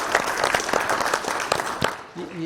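Applause from an audience at a county board of commissioners meeting, a dense patter of clapping running for about two seconds before fading out, with a brief voice at the end.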